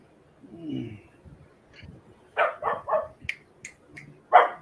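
Small dog barking in a quiet room, a series of about five or six sharp, high yaps in quick bursts after a soft whimper, fairly close and loud.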